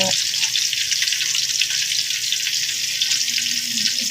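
Steady, close sizzling of tilapia frying in hot oil in a pan, a constant crackling hiss throughout.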